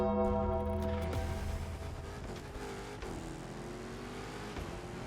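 A simulated Dodge Hellcat, rated at 1187 horsepower, races in iRacing against Lamborghinis, its engine droning loudly with a steady tonal whine that dips and shifts through gear changes and revs, with no talking over it.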